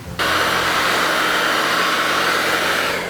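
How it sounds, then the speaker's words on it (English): A hair dryer switches on after a brief pause and blows steadily with a loud, constant whooshing hiss, warming body oils during a car interior restoration. "I'm using the hairdryer to warm up the body oils."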